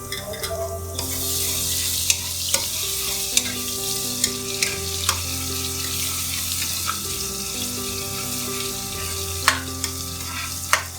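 Oil sizzles steadily in a pan as ginger-garlic paste fries with browned onions, a spoon scraping and stirring through the food, with occasional clinks against the pot.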